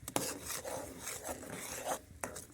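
A spoon scrapes and rasps around the inside of a pot in quick, uneven strokes, close and fairly quiet.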